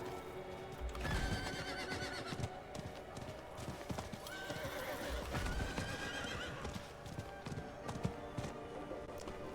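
A horse mount in Diablo 4 trots with rapid clip-clop hoofbeats and lets out a loud whinny partway through, with game effects layered around it and no talk.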